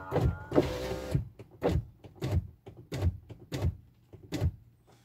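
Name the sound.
electric window of a 2005 Peugeot 307 CC opening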